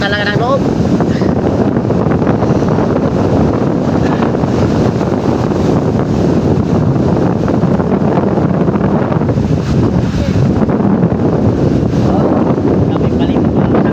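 Out at sea on a small boat, strong wind batters the microphone in a constant loud roar, with crashing waves underneath and a voice occasionally heard through the gusts.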